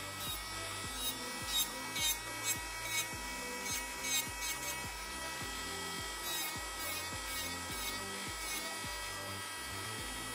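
Electric nail sander working on an ingrown, sideways-growing nail, a steady high whine with short bursts as the bit touches the nail, close and continuous with no talking.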